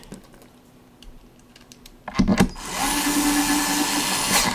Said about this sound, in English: I like this electric screwdriver because it actually has a torque limit to it.